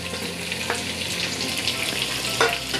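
Sliced onion sizzles steadily as it fries in a pan for a Marathi-style green chicken hariyali dish, a continuous hissing crackle with a couple of brief stirring scrapes and no talking.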